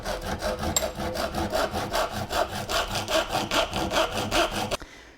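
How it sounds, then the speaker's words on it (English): Handsaw cutting a kerf into a wooden axe handle, rapid rhythmic back-and-forth rasping strokes, close and steady, ending abruptly after about five seconds. "I'm gonna have to cut my kerf down."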